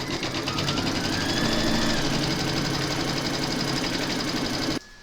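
An embroidery sewing machine stitches the satin-stitch placement outline for a coffee placemat, a close, continuous fast whirring buzz that runs steadily and then cuts off abruptly near the end.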